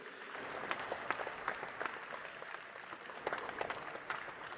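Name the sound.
audience applause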